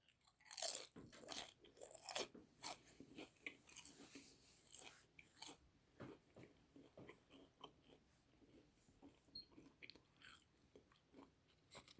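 Someone chews crunchy cheesy noodles up close, with a run of crisp bites and crackling chews that start loud and grow softer and more irregular.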